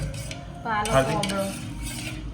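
Amla and spinach juice being stirred in a vessel: soft scraping and light utensil clinks over a couple of seconds, close and fairly quiet, with no talking.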